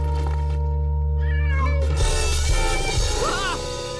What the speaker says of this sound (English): It was just the cat.